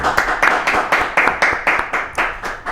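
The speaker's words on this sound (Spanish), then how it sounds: "vamos a recibir a Esteban, aunque algo sentido hoy, naturalmente, así como todos nosotros, con un fuerte aplauso" Rhythmic clapping from a small group, steady claps of moderate loudness in quick succession.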